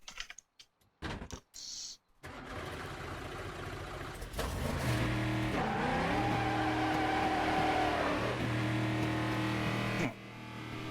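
A stock V8 race car launches from the pit lane at Watkins Glen in a racing video game, the engine revving up and holding a steady loud drone after a few brief keyboard-like clicks.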